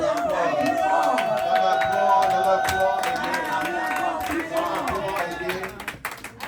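A church congregation cheers and claps for the fathers at a Pentecost service, a loud crowd roar with scattered applause and shouts that swells, then thins out toward the end.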